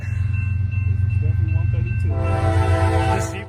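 CSX M310 freight train in Muncie, with a Seaboard System emblem locomotive trailing second, rumbles past close and loud as its horn blares through the second half.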